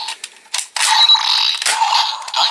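Mechanical clicking and whirring from a Power Rangers Dino Charge Ammonite Charger toy, with bursts of buzzy, ratcheting noise that build into a sustained, loud electronic drone.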